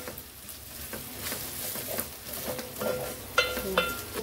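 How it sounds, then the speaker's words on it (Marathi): Ginger-garlic paste sautés with onions in a pan for dry chicken, a quiet sizzle with soft spatula scrapes and a couple of light metallic clinks, close and unhurried. "आलं लसूणची पेस्ट चांगली परतून घेऊया कांद्यामध्ये।"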